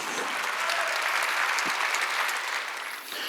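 A church congregation claps together during a Wednesday worship service, a dense, sustained wash of applause that fills the whole stretch and eases slightly near the end.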